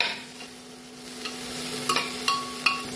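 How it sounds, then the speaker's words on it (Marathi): Potatoes and spice masala for masale bhat are stirred in a pan, soft sizzling under a few distinct spoon scrapes and knocks near the end, close and moderately quiet. "आता छान मिक्स करूया"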